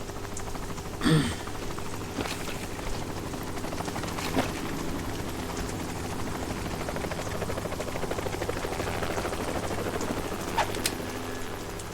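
Helicopter in a Metal Gear Solid 2 cutscene, a steady low rotor drone running throughout with a few sharp bursts and clanks over it, no talk.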